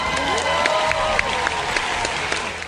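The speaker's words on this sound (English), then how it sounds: "the Democrat crowd goes wild and they applaud like the Beatles are playing" A studio audience applauds and cheers in a continuous, fairly loud wash of clapping with crowd voices mixed in, holding steady for a few seconds before easing slightly at the end.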